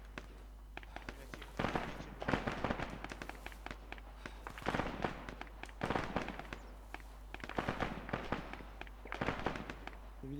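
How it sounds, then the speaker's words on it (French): Gunfire in the military game ArmA: repeated bursts of sharp cracks and pops in irregular clusters over a steady low hum, fairly loud and continuous throughout, with no speech over it. "J'ai vu des tirs venant de 3 heures"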